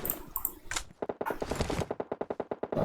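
Automatic gunfire in the video game PUBG Mobile on the Sanhok map: a few scattered shots, then a rapid, evenly spaced burst of around a dozen sharp cracks, loud and close.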